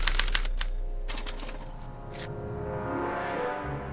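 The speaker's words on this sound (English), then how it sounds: "they're relayed to this special typewriter, which prints out a punch card that represents the subject's mind map" Clattering typewriter keys strike in quick bursts as a special typewriter in a video game prints out a punch card, followed by a softer mechanical whir with a faint low hum underneath.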